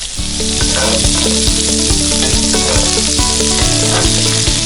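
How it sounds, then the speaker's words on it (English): Green beans and bacon frying uncovered in a pan give a loud, steady sizzle with crackle, a continuous close hiss with no talking over it. "The green beans will take about 10 to 15 minutes to cook."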